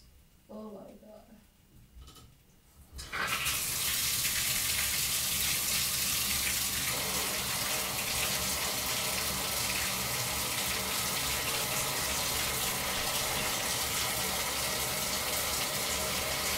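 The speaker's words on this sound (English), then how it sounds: "I didn't know the shower is on." A home shower turns on after about three seconds, a steady broadband hiss of running water that stays loud to the end, with a person talking briefly before it starts.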